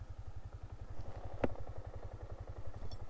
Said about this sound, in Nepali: MT-15 को ओह्रालोमा कतिको कुद्दो रहेछ है त